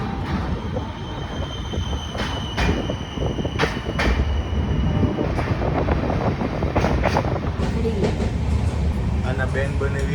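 Sayaji Express passenger train rolling slowly near Sabarmati junction, a steady broadband rumble of carriages and wheels on track with occasional brief squeals and clanks, heard from on board with voices talking faintly in the carriage.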